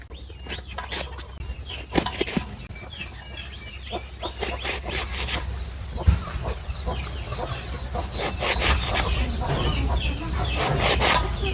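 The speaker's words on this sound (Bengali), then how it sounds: "তাই আগে আমি বেগুন কুটতে নেই।" A knife slices eggplant (brinjal) in a rural kitchen with repeated short crisp chopping strokes in uneven bursts, close up. Chickens cluck in the background, and no one talks.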